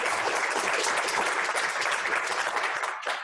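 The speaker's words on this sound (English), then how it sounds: "A round of applause." Audience at a community-groups talk applauds at the close, a full, even wash of many clapping hands lasting a few seconds before cutting off.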